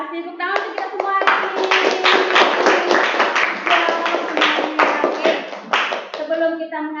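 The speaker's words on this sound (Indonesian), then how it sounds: "Tepuk tangan untuk kita semua hari ini." A class in an online lesson gives a round of hand clapping, loud and close, lasting several seconds with voices talking and chattering over it.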